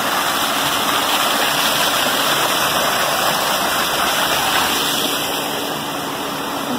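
Small waterfall in a geological park in Campo Grande, a steady, loud, close rushing and splashing of falling water that continues evenly throughout.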